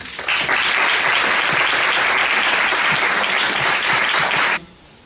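An audience at a senator's university conference breaks into sustained, dense applause that stays loud for several seconds, then stops abruptly, leaving a quiet room.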